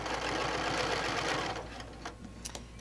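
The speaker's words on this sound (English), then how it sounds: "I'm going to stitch right to that diagonal line, sink my needle, pick up my foot" A sewing machine stitches a French binding onto a quilt in a close, fast, even whirring run that stops after about a second and a half. A few light clicks and taps from the machine follow.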